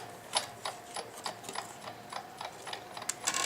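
Hand crank of a die-cutting machine turned backwards while cutting shapes for a Halloween tree craft, a quiet series of quick ratcheting clicks in irregular rhythm, close by.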